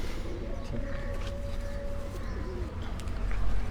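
Pigeons kept by fanciers on a village rooftop coo softly under a steady outdoor background, with brief chirps and a faint voice in the distance.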